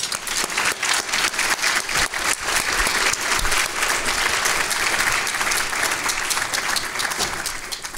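Steady applause from a lecture audience greeting Professor Autesserre before her evening talk on peace after mass violence, dense and sustained clapping throughout with no voices.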